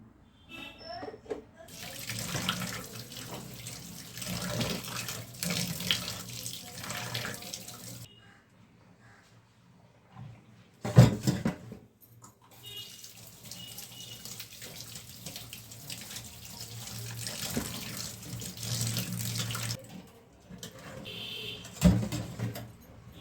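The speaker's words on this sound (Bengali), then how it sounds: "চার পাঁচবার করে মাছটাকে ভালো করে ধুয়ে নিয়েছি" Tap water runs into a kitchen sink while fish is washed, the stream splashing and changing as the fish is moved under it, with brief pauses and a few clanks of handling between runs.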